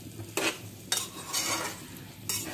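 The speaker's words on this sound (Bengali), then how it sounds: "এখন আমি দিয়ে দিচ্ছি আগে থেকে ভেজে রাখা আলুগুলো, দিয়ে একটু ভালোভাবে নেড়ে চেড়ে দেব।" A spoon scrapes and stirs fried potatoes into a Bengali-style chicken curry in a pan, with a few separate scraping strokes over a soft sizzle and no talk.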